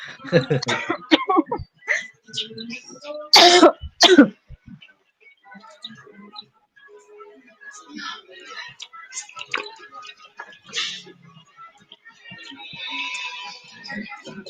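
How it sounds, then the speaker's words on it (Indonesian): A couple of harsh, sudden coughs from an adult during an indoor teacher coaching session, heard up close early in the clip, followed by scattered clicks, faint rustling and quiet background sounds. "Batuknya."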